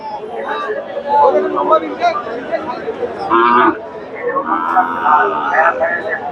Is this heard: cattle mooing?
yes